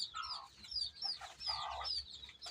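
Chickens on a city rooftop farm cluck and chirp in short, repeated bursts, fairly quiet and close, with small pauses between calls.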